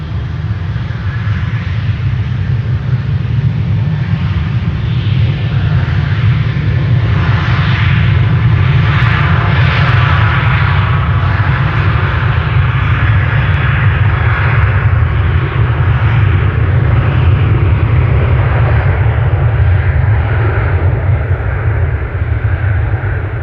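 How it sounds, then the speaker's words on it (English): A Boeing 747 jet at Amsterdam Schiphol produces a loud, sustained engine roar with deep rumble, steady throughout, under a low cloud ceiling. "Yeah, that 747 is coming this way."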